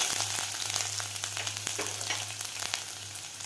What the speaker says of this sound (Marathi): आलं आणि लसूण थोडंसं फ्राय झालेलं आहे